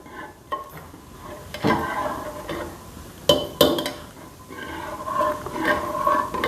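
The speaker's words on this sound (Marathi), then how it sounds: "आता हे चांगलं मिश्रण एकत्र करून घ्यायचे" A spoon scrapes and knocks around a pan as a thick sprouted-bean usal mixture is stirred, with irregular clinks and soft scraping, close and moderately loud.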